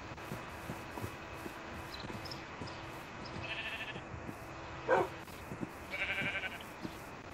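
Sheep in a video game bleating, a few short separate bleats at low level over quiet background clicks and faint game sounds.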